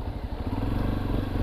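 A Honda XRE dirt motorcycle rides on a windy, cold day, its single-cylinder engine thumping in a loud, close, steady rhythmic putter with rattling clatter and no talk.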